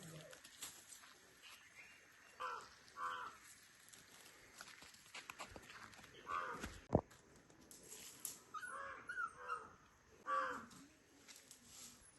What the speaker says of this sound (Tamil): இங்கே தோட்டத்துக்கு கிளியிலேயே சின்ன கிளி ஒன்று வரும்